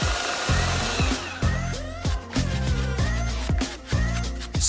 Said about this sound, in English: Sand the rings into shape.